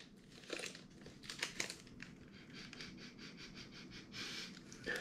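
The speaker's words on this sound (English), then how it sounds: "Let's do the sniff. The all-important sniff." Someone sniffs a freshly opened Fruity Pebbles white chocolate candy bar, a few quick close nasal sniffs mixed with crinkling wrapper rustle, faint and close, no talk.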